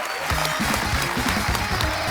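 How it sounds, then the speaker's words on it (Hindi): Studio audience applause on a television comedy show, loud continuous clapping from the crowd with a voice speaking over it. "एक बार जोरदार तालियां हो जाएं बडाली ब्रदर्स के लिए।"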